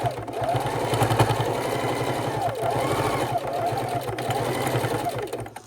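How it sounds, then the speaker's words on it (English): Sewing machine stitching fabric for a travel neck wallet, a steady rapid mechanical whirring with rhythmic needle clatter, close and continuous, briefly easing near the end. "And get you past that high point so you can keep sewing."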